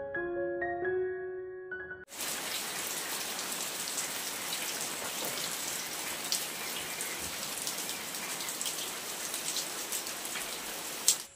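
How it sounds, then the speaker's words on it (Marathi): A brief musical tone gives way abruptly to heavy, steady rain pouring down, a loud continuous hiss of drops close by. "अशी मस्त अशी जोरदार एक पावसाची सर की नाही पडून गेलेली आहे."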